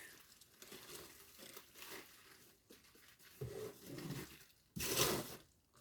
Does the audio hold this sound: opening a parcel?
yes